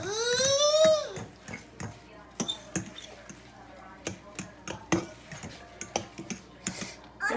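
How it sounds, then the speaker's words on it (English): Oatmeal and banana pancake batter is stirred in a bowl, with a steady run of sharp clicks and taps from the utensil. A brief high, wavering voice-like cry is heard at the start. "And now we're going to mix it."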